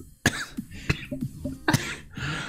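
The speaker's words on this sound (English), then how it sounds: "You're just like coughing so much." A person coughs repeatedly in short, harsh bursts, with throat-clearing sounds between them, close and fairly loud.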